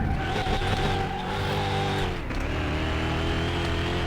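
A car skidding and sliding in Car Mechanic Simulator 2021, with a sustained engine drone and steady tire squeal that shifts in pitch partway through as the vehicle slides.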